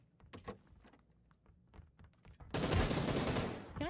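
PUBG gunfire: scattered close shots and thuds, then a loud sustained burst of rapid automatic fire at the end.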